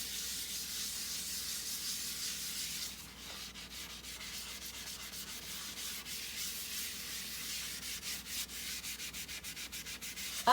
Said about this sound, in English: we're just going to scrub the sink and see how our homemade soft scrub works up against these cast iron